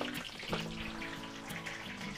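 Steady crackling sizzle of embutido (Filipino meat roll) frying in a pan, with a few brief pops and clinks, fairly quiet and close.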